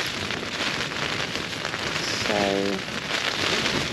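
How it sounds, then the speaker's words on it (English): Rain patters steadily on a tent in a continuous dense hiss of drops, close and even throughout, with a brief faint vocal sound partway through. "But the rain is not too bad"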